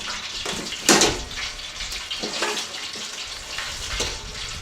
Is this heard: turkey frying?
yes